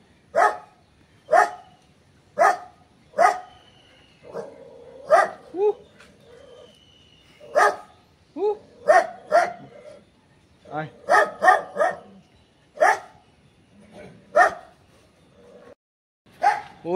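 A dog barks repeatedly at a visitor arriving at a house, sharp close barks in irregular bursts with short gaps over the whole stretch, mixed with a few whimpers and yips.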